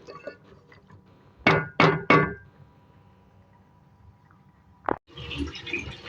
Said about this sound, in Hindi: वाटर 1 गिलास गया है